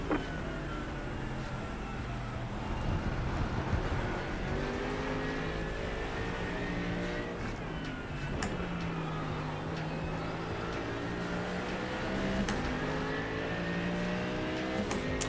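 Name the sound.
race car engine in iRacing video game at Sebring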